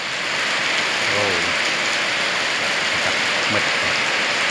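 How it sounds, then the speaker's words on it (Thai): Heavy rain pours steadily during a pre-dawn summer storm in Sung Noen, Korat, Thailand, a dense continuous hiss with a couple of brief faint voice fragments underneath. "มืดฝนตกอย่างแรงครับ"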